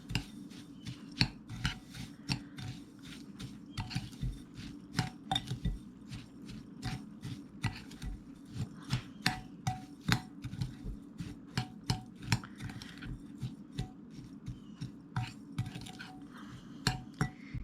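A utensil clinks and scrapes against a bowl in quick, irregular strokes as butter and honey are stirred into crust ingredients for salmon, steady taps close by with no talking.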